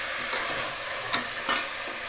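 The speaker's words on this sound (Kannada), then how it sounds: "ಫಸ್ಟು ತರಕಾರಿನ ಎಣ್ಣೆಯಲ್ಲಿ ಚೆನ್ನಾಗಿ ಫ್ರೈ ಮಾಡ್ಕೋಬೇಕು." Vegetables fry in hot oil, a continuous close sizzle with a few stirring scrapes and a sharper crackle near the end, no talking.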